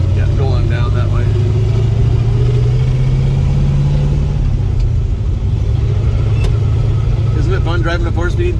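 A 1969 Chevy Nova with a 350 V8 and 4-speed manual cruising, its low engine rumble steady and close, with the pitch dropping partway through as people talk over it.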